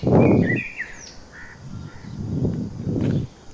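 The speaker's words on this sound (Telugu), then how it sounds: "ఆ పిచ్చుకల సౌండ్స్ అలా వస్తుంటే" Birds call in a village, a few harsh caw-like cries in short separate bursts with thinner chirps between them, moderately close in open air.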